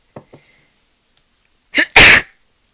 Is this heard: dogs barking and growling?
no